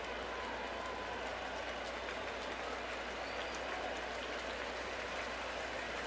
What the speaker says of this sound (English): he gets a nice ovation from the Yankee crowd here for the fine catch that he made crashing into the wall